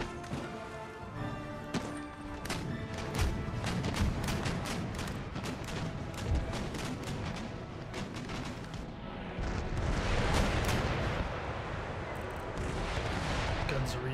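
Naval cannon fire in an Empire Total War sea battle off Copenhagen, heavy broadside booms and cracks rolling continuously for the whole stretch, dense and loud with a thicker volley swelling near the end.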